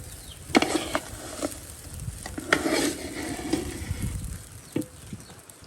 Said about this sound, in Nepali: चामल भुट्दैछु।